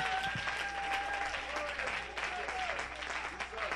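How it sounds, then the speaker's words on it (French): A church congregation bursts into sustained applause and cheering at a revival service, a dense crowd of clapping with voices calling out over it, continuous from start to finish. "Can you give him acclamations?"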